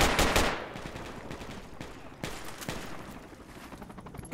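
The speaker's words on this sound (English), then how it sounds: "Enemy fire!" Automatic gunfire from enemies in the military shooter Project Reality, a loud burst of rapid shots at the start followed by scattered sharp reports and bursts, some nearer and some farther off.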